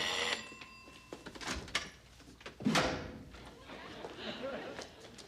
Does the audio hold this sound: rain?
no